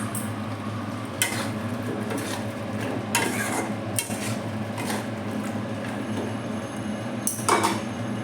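A spatula scrapes and knocks against a pan while jackfruit is stir-fried with yogurt and spices, with steady frying noise underneath and several louder metallic scrapes at irregular intervals.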